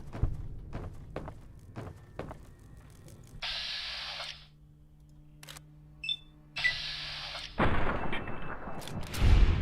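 Gunfire in a video game using the VATS targeting mode, a run of sharp separate shots early on followed by longer bursts of roaring noise and loud blasts, with short quiet gaps between them.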